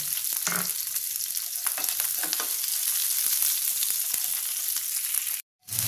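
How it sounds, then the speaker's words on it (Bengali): Sliced onion and baby corn fry in a pan with a loud, continuous sizzle, close up and steady, with occasional soft pops and clicks, dropping to a sudden brief silence just before the end. "দিয়ে দেবো পেঁয়াজটা। একটু হালকা এগুলো"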